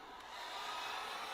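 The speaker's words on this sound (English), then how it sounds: "I'm just going to take a hairdryer" A hair dryer on high blows a steady, hissing airflow over alcohol inks, a continuous rushing sound that swells slightly after switching on and stays even, with no voices.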